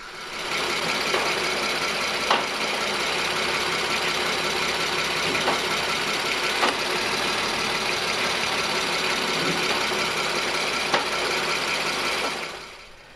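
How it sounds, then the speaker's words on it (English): A mechatronic gearbox with a fault clicks faintly every few seconds as gears engage, heard under the steady, close idle of an Audi TT Mk2 8J engine. "just listen for when I'm engaging different gears by the different clicks"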